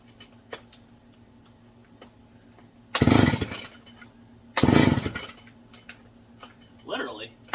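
An old barn-find McCulloch 250 chainsaw engine fires and sputters in two short, loud bursts separated by a pause, with faint ticking and a low steady hum between them.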